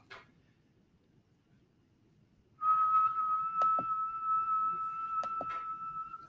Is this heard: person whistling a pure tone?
yes